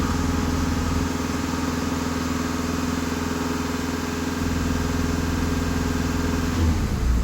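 A Skoda Passat B7 engine with a P20EE NOx fault and a clogged EGR runs at raised revs. It gives a steady, loud mechanical drone that shifts slightly partway through and drops near the end.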